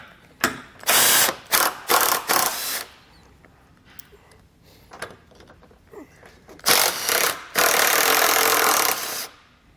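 An 18mm socket on a ratchet removes the top and bottom bumper nuts on a 2014 BMW X3, giving several loud bursts of rapid clicking ratcheting with quieter gaps and small knocks between them, and no talk.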